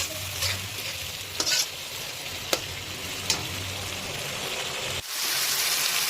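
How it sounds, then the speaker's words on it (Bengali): Gobindo Bhog rice stir-fried with fish head in a pan, a continuous sizzle with sharp clacks of the spatula every second or so, close, with the sizzle briefly dropping before swelling again. "এইবার এটা কিন্তু মেনলি ভালো করে একটু কষে নিতে হবে।"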